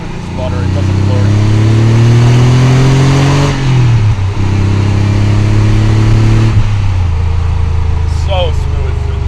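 A 1991 Porsche 911 Carrera 2 Cabriolet engine drones loudly and steadily while driving, rising in pitch under throttle, dipping briefly during a gear change around the middle, then pulling again, close and continuous throughout.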